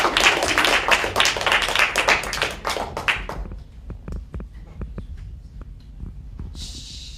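Audience at an improvised theatre show applauding, a dense burst of clapping for about three seconds that thins to scattered claps and fades.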